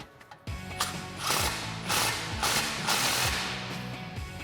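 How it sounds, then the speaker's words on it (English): A ratchet tightens an exhaust clamp on a 2011-2016 Ford F-250 Super Duty with an MBRP 4-inch single exhaust system, giving several bursts of rapid clicking strokes, close and fairly loud. "we can loosely tighten our clamp, and then we can go back and fully tighten everything down"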